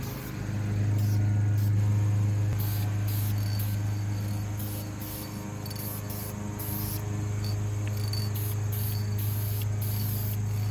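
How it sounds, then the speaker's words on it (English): Clear coat is sprayed from an aerosol onto brake calipers, a close, steady hiss in bursts of several seconds with short pauses, over a constant low hum. "now time for coat number 2 of the clear coat"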